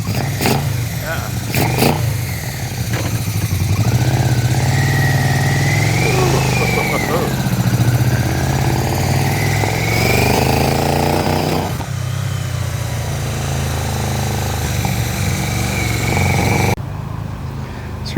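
A Yamaha Vmax motorcycle engine runs loud and close as it warms up, holding a rough idle with a few revs rising and falling, while people talk over it.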